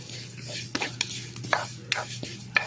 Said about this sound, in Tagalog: Patuloy lang ang halo hanggang sa mag-brown.